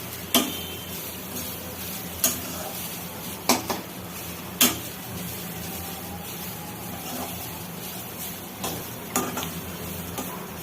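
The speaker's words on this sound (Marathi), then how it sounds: "आता हे तुपामध्ये भाजायचं आहे." Grated coconut roasting in ghee in a pan, with a soft steady sizzle and the sharp scrape and clink of a spoon against the pan at irregular intervals; no talk.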